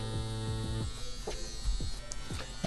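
A CNC CW2 wireless tattoo machine buzzes steadily up close, a continuous motor drone with a few faint clicks and small handling noises over it.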